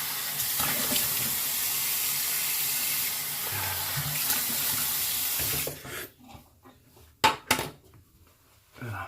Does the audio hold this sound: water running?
yes